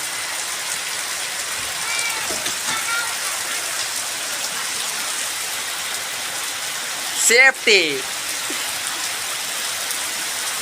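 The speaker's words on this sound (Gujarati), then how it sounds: "જુઓ વરસાદ કેવો પડે છે" Heavy rain pours steadily onto the ground at a village farm on the day peanuts were first sown, a dense continuous hiss throughout, with a brief burst of nearby talk partway through.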